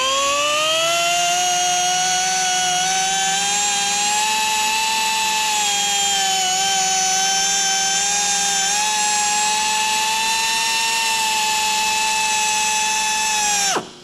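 An off-car brake lathe spins a brake rotor while a non-directional finish is applied, giving a loud steady high whir with layered tones that holds for many seconds, then cuts off abruptly at the end.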